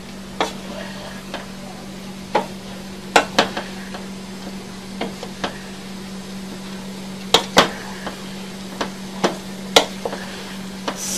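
A spoon stirs diced tomatoes into a chicken mixture in a pan, irregular sharp taps and scrapes over a steady low hum.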